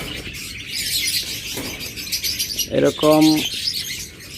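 Pet birds, a pair of lutino red-eye and American yellow, give a few short chirps and one clearer, tonal call near the end, close by amid cage-room rustle, with a brief spoken word.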